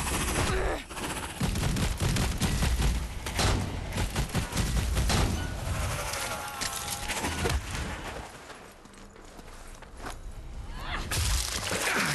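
Shotgun blasts in the co-op shooter Strange Brigade, dense bursts of loud gunfire and impacts repeating rapidly throughout amid a busy, chaotic game mix.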